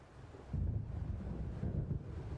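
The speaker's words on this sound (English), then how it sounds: "Now there was nothing but waves." Low, steady rushing wind and rolling lake waves in the Alan Wake video game, with a soft swell of surf building midway and then easing off, no voices present.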